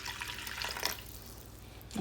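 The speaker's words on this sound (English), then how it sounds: "So I'm gonna add a little bit of water." Water splashes from a tap or jug into a pot of stewing Jamaican oxtail, a brief close gush that fades within a couple of seconds.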